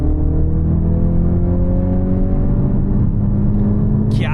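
Audi Q3 engine pulling hard under acceleration while on the move, a loud steady low rumble with rising harmonic tones and road noise throughout, no talking.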